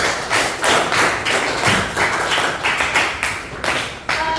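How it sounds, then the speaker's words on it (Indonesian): Students and a teacher in a classroom clap together in a lesson on stopping bullying, loud close-up claps falling in a rough, pulsing rhythm of repeated bursts rather than a smooth wash. "tepuk tangan untuk kita semua"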